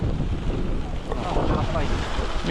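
Wind buffets the microphone in a steady broadband roar during a long bike ride around Poznań beside a choppy lake, continuous and close throughout.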